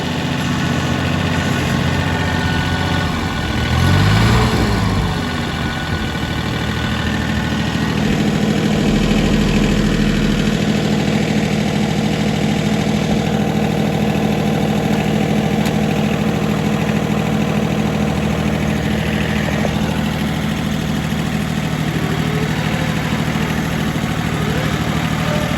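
A 1050 tractor engine idles steadily, a low mechanical rumble with a faint knock running evenly and close by, with no voices.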